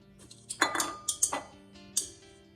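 A utensil clinks and scrapes against a bowl while flour and baking powder are stirred together for steamed bun dough, a handful of sharp close chinks spread over a couple of seconds with quiet pauses between.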